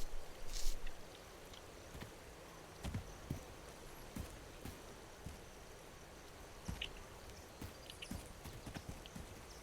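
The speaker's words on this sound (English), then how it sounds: "Those guys are definitely on the horses." Horses walking in the video game This Land is My Land, their hooves clip-clopping in soft, uneven steps against a steady outdoor ambience, fairly faint and distant with no talking.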